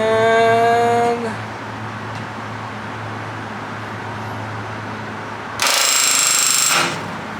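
An RV-10 aircraft part has a rivet set by a pneumatic rivet gun against a special bucking bar, giving two loud, harsh bursts of rapid hammering, one at the start and one near the end, with a quieter hiss between them.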